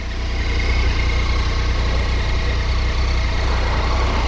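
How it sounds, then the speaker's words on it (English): Triumph Tiger 800 motorcycle engine idling on a standard exhaust can, a steady close drone with a whistly edge and a slight gurgle, holding constant throughout with no talk. "Very whistly sounding engine."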